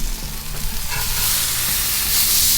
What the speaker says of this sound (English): Let's flip our steak.